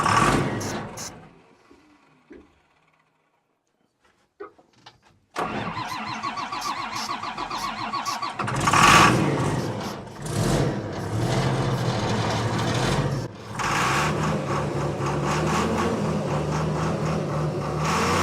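A Prentice log loader's diesel engine cranks briefly, goes quiet, then turns over and catches, settling into a loud, steady running rumble close by with surging revs.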